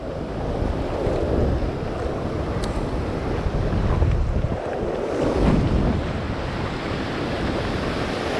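A strong north wind blows at a beach, a loud continuous rushing roar buffeting the microphone with surf churning underneath, steady throughout with no talking.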